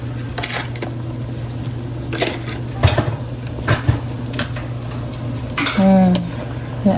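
Homemade meatballs dropped into a cooking pot: a few clattering knocks and scrapes of a utensil against metal over a steady low hum, ending in a brief wet stirring squish.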